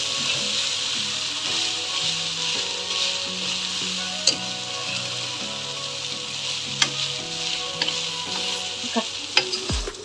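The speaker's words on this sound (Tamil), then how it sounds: "ஃப்ரைட் ரைஸு விடாமல் என்ன ஹையில் வச்சு நீங்கள் கிளறிட்டே இருக்கணும்" Fried rice with tomato ketchup sauce sizzles hard on a high flame while a utensil stirs it constantly, with close scraping clicks over a light melody in the background.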